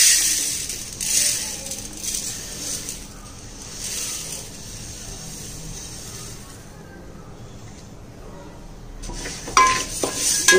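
Millet (kambu) being stirred and dry-roasted in a pan for a weight-loss powder, a steady scraping and rustling of grains with faint sizzle and spoon-on-pan clatter, close and moderately loud, with pauses between stirring bursts.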